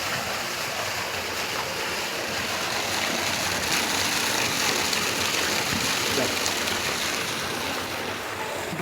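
Water gushes steadily from a pipe at a well, a continuous, loud, rushing roar nearby with no pauses throughout.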